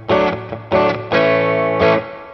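Electric guitar through a humbucker pickup with distortion plays four chords, each a loud, heavily saturated burst; the last two ring out longer before cutting off.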